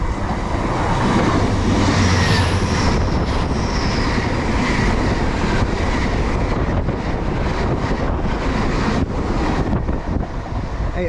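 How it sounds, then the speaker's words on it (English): A Great Western Railway train to London Paddington rushes past in a continuous loud roar, heavily buffeted by wind noise on the microphone. "passing through now, we've got a Great Western Railway service to London Paddington"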